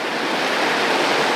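Runoff from heavy rains in the upper regions rushes down a usually dry river in Mutomo division, Kitui, making a steady, loud, close hiss of flowing water that does not stop.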